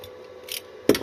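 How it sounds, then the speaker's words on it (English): Scissors cut through the stickers wrapped on an e-bike battery pack, a brief crisp snip or two close by at the end of a short quiet moment. "So, cut the stickers"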